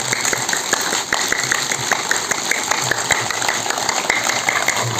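A large group claps hard and continuously during a yoga exercise, forming a loud, even wash of overlapping hand claps with faint sharper strikes, and no one speaks.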